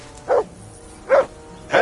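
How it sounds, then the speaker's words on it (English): Three sharp, loud barks from a dog in the medieval game Kingdom Come: Deliverance II, evenly spaced and close up against a faint background. "Whistle at that mutt of yours to stop barking!"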